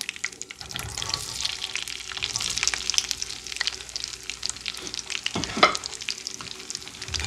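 Chicken sausage frying in a pan makes a close, crackling sizzle with stirring and scraping from the utensil, steady and fairly loud, with one sharper clatter near the end and no talk.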